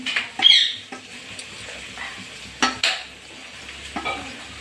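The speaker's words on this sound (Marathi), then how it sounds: "तोपर्यंत कांदा छान परतोय असा" Onion sautéing in a pan, a low sizzle broken by a few louder stirring scrapes and spatula clatters, close and steady with no talking.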